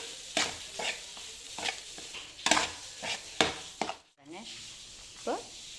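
Eggs and hot cooked rice stirred together in a frying pan for a lunch box meal, with repeated scraping strokes of a spatula over a soft background sizzle, close and moderately loud.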